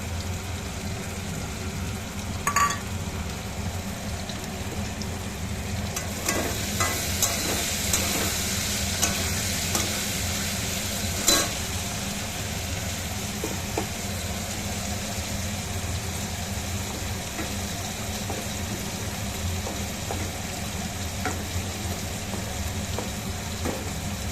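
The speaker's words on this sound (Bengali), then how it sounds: "মশলাটা একটু কষা কষা হোক" A spice paste of Kashmiri and regular chilli ground with salt and sugar fries in a pan for a potato, cauliflower and paneer sabji, giving a continuous low sizzle with occasional spoon scrapes and knocks, nearby and without talk.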